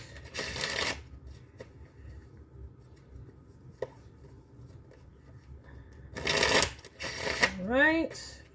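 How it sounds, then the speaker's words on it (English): A deck of tarot cards being shuffled, two brisk riffling bursts separated by quiet, close and crisp, with a person's voice rising at the end. "I will do one more shuffle."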